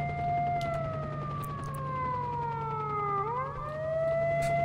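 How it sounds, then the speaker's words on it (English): A wailing air-raid siren from the video game S.T.A.L.K.E.R.: Shadow of Chernobyl rises and falls in long, loud, steady glides over a low constant hum, dipping near the end before climbing again. "Oh my gosh, this siren."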